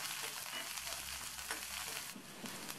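Onion, green chilies and curry leaves lightly sautéed in oil, a soft, even sizzle with faint stirring, fairly quiet throughout.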